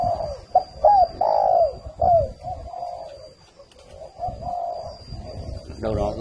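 Spotted doves coo repeatedly inside a large 300-square-metre aviary, several rounded calls close and clear with quieter birds behind, and a voice briefly joins near the end.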